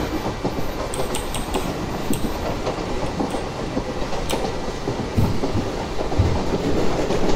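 A train hauled by a WAG9 electric locomotive rushes past at speed in the Open Rails simulator, a steady rumbling roar with faint rhythmic clicks of wheels over rail joints building slightly toward the end.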